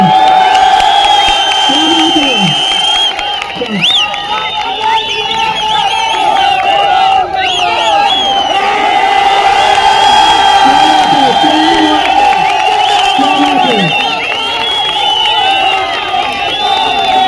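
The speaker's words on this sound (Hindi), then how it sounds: "जोरदार तालियां भाई के लिए, और जोरदार तालियां हमारे उपाध्यक्ष बड़े भाई सुरेश सिंह के लिए।" Large crowd at an outdoor protest rally cheering and whooping with loud, continuous hubbub and shouts throughout; no distinct clapping rhythm stands out.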